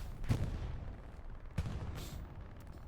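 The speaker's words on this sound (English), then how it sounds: "artillery clears everything out again" Artillery fire in the Hell Let Loose video game: two distant, muffled booms about a second apart, each with a short rumbling tail, over a low background of battle noise.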